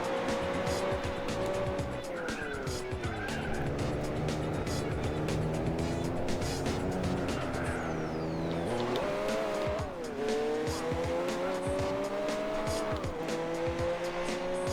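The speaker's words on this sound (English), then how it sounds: "I got the sound of that Honda in my ear right now." Turbocharged Honda S2000 engine in Gran Turismo 4 racing, a sustained tonal drone that rises through the gears with drops at each shift, accompanied by tire squeal and other cars; a voice talks intermittently over it.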